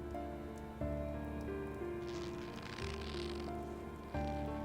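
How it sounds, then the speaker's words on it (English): Rain falls in the Death Mark game as a soft, steady patter, swelling briefly in the middle, underneath sustained tonal background music with no talking. "Oh, it's raining."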